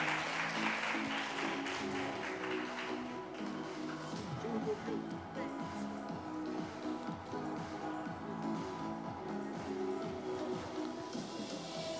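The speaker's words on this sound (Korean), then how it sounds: "저희 한 명 한 명 저서가 전달될 때 큰 박수 부탁드립니다." Audience applause at a ceremony where students receive books signed by the author, a steady spread of clapping running the full length under a voice speaking over a microphone.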